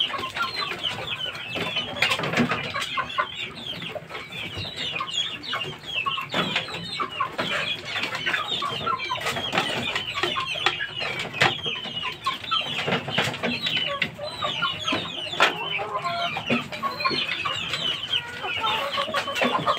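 Two mother hens cluck continuously at close range, a busy chatter of overlapping clucks and short calls carrying on for the whole stretch without talking.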